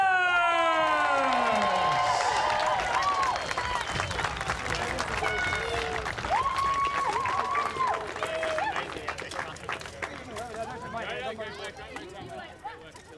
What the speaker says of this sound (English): please give a rousing applause and a mighty huzzah to the Vultures!